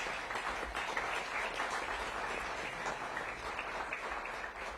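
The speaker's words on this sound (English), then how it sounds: "So give that a round of applause." An audience at a Washington, D.C. mayoral event for a summer youth employment program gives steady, even applause, heard faint and somewhat distant, with no talking.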